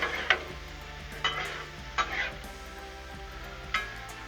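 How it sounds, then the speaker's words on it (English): Shrimp and broccoli sizzle steadily on a hot Blackstone griddle while a spatula stirs them, scraping the metal surface in several sharp clicks and scrapes over the constant close frying hiss. "Give everything a good stir."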